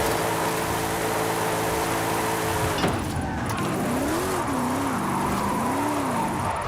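A Mercedes in Forza Horizon 5 drifts in 5th gear, its steady engine note droning loud and close as tyre squeal rises and falls in wavering tones over the final seconds.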